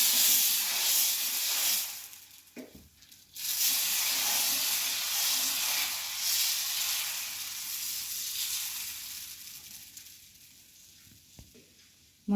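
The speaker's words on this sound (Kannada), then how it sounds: "ದೋಸೆ ಎರಿ." Dosa batter sizzles on a hot griddle with a loud, steady frying hiss. It dips briefly after two seconds, returns strongly and slowly fades toward the end, with no speech.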